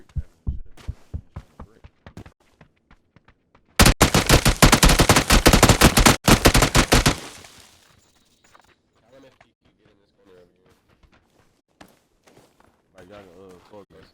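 Rapid bursts of gunfire from a violent shooting video game blast loudly for about four seconds, surrounded by sparse sharp single shots and quieter game sounds, with players talking faintly later.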